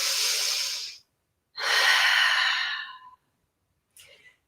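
During a kids' yoga pose, two long, breathy exhalations sound close and clear, each around a second and a half, separated by silence, followed by a short, quieter breath at the end.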